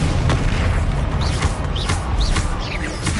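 Bombarda spell explosions in the Hogwarts Legacy video game make repeated deep booms and bursts over a dense, loud game soundscape, with whooshing magical effects and no voice heard.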